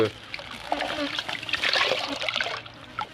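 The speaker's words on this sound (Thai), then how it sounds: "จะคนน้ำไปเรื่อยๆ นะครับ" Water is stirred by hand in a bucket of photosynthetic bacteria ferment, giving continuous splashing and sloshing close by under a man's speech.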